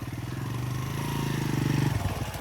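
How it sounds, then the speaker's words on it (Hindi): Honda motorcycle drawing near, its engine a steady mid-pitched drone that swells slightly as it gets closer, then eases off at the end. "ये मोटरसाइकिल की भी आवाज़ आना शुरू हो गई है"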